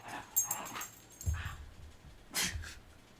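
Dogs whimpering, yipping and barking in short separate bursts a little way off, with audible breathing between the sounds.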